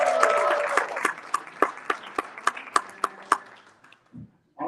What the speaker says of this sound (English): One more time, give it up for Brenda Ring Wood